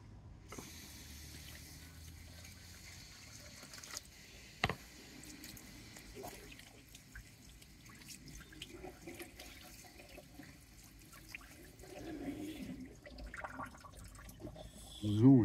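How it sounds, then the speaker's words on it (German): Fresh water from a garden hose pours into a small bowl outdoors during a wet shave, a soft continuous trickle and splash that rises near the end, with a faint background hiss. "Und damit zum Schlauch neues Wasser."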